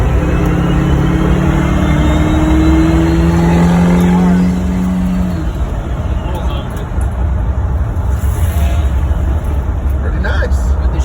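A rally car on a Schwartz chassis drives steadily, its engine loud and close with a rising note that drops as it downshifts, then a continuous road roar follows.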